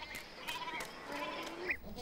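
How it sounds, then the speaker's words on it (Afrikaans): Goats bleat in a mountain setting in an animated Heidi story, a few short wavering calls over a busy, noisy background, one sharper bleat near the end. "Pieter, vat jou bokke op in die berge en vat sommer myne saam."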